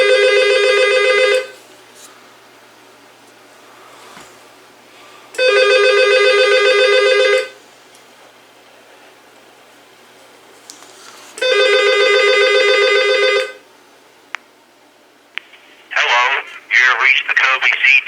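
A Coby CT-P940 corded telephone with speakerphone and caller ID rings in three separate electronic bursts of about two seconds each, spaced by quiet gaps, followed by a short burst of faint warbling sounds.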